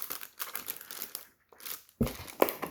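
Cardboard packaging being pulled off a HyperX Alloy Core RGB gaming keyboard: close, quiet crinkling and rustling with a brief pause, then a sharper scrape and crunch near the end.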